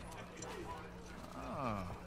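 Horse hooves clip-clop steadily in The Last of Us Part II, a moderate walking rhythm heard quietly beneath a person talking, with a faint whinny-like tone near the end.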